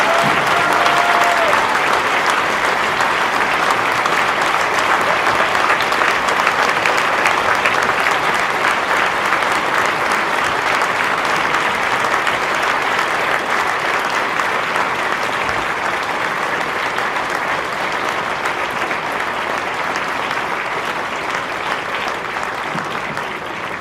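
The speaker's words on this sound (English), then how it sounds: "let's just give Royce and his family a round of applause and recognition of who he is" A crowd at a high school wrestling meet applauds in recognition, sustained loud clapping for over twenty seconds that fades slightly toward the end.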